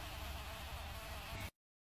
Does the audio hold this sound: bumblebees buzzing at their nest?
yes